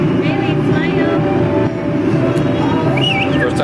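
A small ride-on playground train rumbles along in a steady, loud mechanical drone with rattling from the cars and a brief squeal near the end, close by and continuous.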